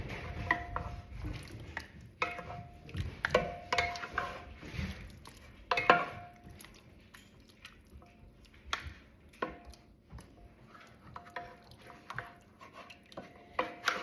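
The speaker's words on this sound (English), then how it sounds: "it's shredding nicely just by using my spoon" Two metal spoons scrape and clink in a pot of cooked chicken soup with tomatillos while the chicken is pulled apart, a steady stream of soft, irregular taps and scrapes with no talking.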